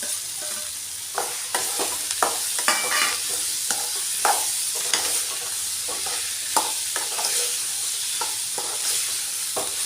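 Potatoes stirred into a capsicum curry frying in a pan, a constant bright sizzle with repeated close spoon scrapes and clicks against the pan, no talking.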